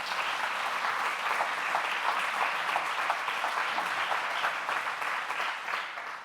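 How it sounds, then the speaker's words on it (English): An audience claps steadily and continuously, a dense, even round of applause sustained from start to finish. "So a round of applause for them."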